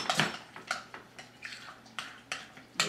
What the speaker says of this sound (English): Keep stirring away.